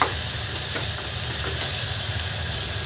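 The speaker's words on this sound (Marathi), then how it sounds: "पण जरा मी तुपाची फोडणी दिलेली आहे।" Steady, close sizzling of hot ghee tempering in a pan for khichdi, a continuous frying hiss with faint stirring, no voices.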